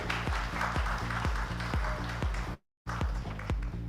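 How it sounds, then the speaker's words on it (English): Applause for conference panelists, with rhythmic, heavy beats that sound like thumping or stamping over a bed of clapping, broken by a brief total dropout before resuming. "Let's give them a thunderous round of applause"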